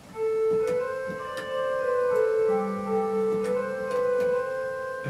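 Sustained pipe organ chords on a GrandOrgue virtual organ with the sesquialtera stop drawn, bright reedy harmonics over held notes, a low pedal tone entering midway, steady and close with no talking.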